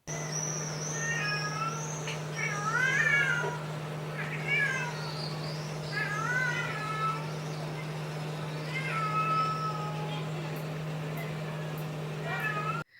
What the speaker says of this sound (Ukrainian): сойка може наслідувати спів котика.